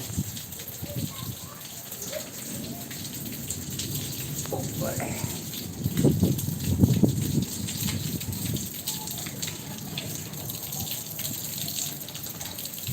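Steady rainfall in Kutch near Bhuj, a continuous broadband patter with brief heavier bursts midway, audible throughout with faint background noise.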